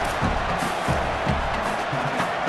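A home crowd in EA Sports College Football 27 keeps up a steady, dense cheering roar from start to finish, loud and continuous with no single voice standing out.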